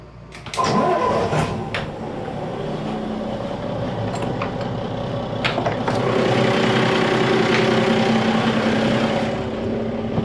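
A Volvo TAMD 63P marine diesel in a 2000 Pursuit 3400 Fisherman boat cranks with a few sharp bursts, then catches and settles into a rising, steady idle rumble.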